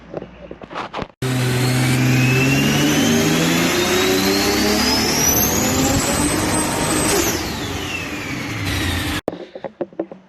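A turbocharged Toyota Supra engine running on E85 at 22 psi boost, managed by a Motec M800, makes a loud sustained dyno pull of about eight seconds, its pitch climbing steadily with a high turbo whine before it cuts off abruptly.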